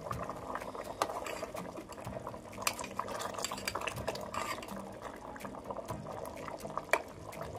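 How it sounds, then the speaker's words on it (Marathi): A pot of potato and cashew curry at a rolling boil, with dense, steady bubbling and gurgling throughout and occasional small clinks of utensils. "उकळी तर खूप छान येते"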